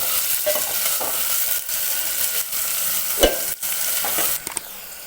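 Chopped onions and green chillies fry in a pan with rock salt, a continuous close sizzle broken by repeated spatula scrapes and clinks against the pan, with no talking.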